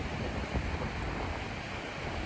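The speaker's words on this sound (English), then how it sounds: "I show this as some backdrop to show you that, you know how this water flowing" Water of the Rappahannock River flowing past, a steady broadband rush and wash mixed with wind buffeting the microphone, continuous and fairly close with no voices.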